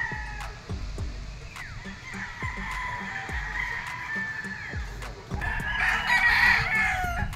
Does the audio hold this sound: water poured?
no